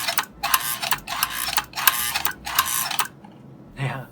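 Early-version American Flyer Semaphore Sam accessory after repair, its solenoid buzzing in several short bursts with brief gaps between, each pulse sliding the arm back and forth, followed by a softer mechanical clunk at the end.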